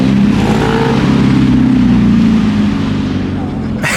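Cars drive past at Daikoku parking area at night, engines loud and close with a sustained rumbling pass that fades toward the end before another sharp burst; a voice speaks over them.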